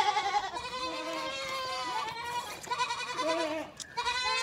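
Several goats bleat repeatedly, overlapping wavering cries near and far, in a noisy outdoor pen with no talking.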